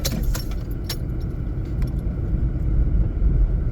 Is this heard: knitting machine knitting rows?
no